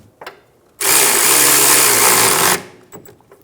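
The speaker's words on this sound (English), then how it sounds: "We'll snug down the two top bolts." A power tool snugs down the top bolts on the rear upper control arm of a 2010-2014 Subaru Outback, one loud close whirring burst of under two seconds, with quiet clicks before and after.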